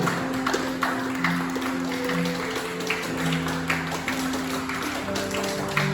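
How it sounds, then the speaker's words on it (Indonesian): Applause from the congregation at a church wedding blessing ceremony, a steady patter of clapping that carries on through the whole stretch beneath a sustained organ-like tone and room murmur. "mari kita sambut tepuk tangan"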